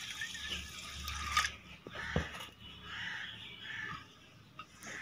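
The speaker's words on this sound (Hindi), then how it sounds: "खुला पानी डालें इसमें और ऐसे रोड़ी इसमें से अलहदा कर दें।" Water is poured over poppy seeds to rinse and wash them, giving a soft splashing and trickling with a few drips, moderately close, over faint background noise.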